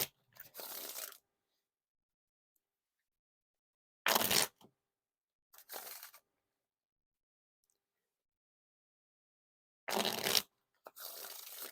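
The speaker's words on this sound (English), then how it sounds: "Now time for the Wiffle Shuffle or Bridge Shuffle." Dan and Dave Tabaco Brown Antler playing cards are given riffle and bridge shuffles, four short, crisp bursts of fluttering card slaps separated by long silent gaps, close and fairly quiet.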